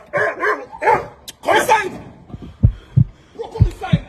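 A dog barks in short, deep bursts, a few close, loud woofs following a voice speaking.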